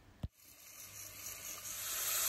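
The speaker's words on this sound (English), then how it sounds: "you're going to stir fry the mushrooms with olive oil, garlic, fresh oregano, and just let it sizzle" Mushrooms in olive oil with garlic and fresh oregano begin sizzling in a pan after a sharp knock, the hiss building steadily and growing louder, with no voices.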